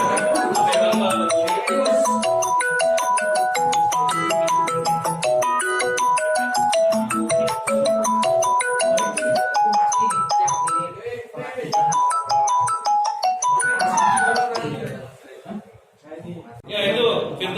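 A mobile phone belonging to a teacher rings out loudly in a history classroom during a lesson, a repeating melodic ringtone looping steadily under voices talking and brief laughter.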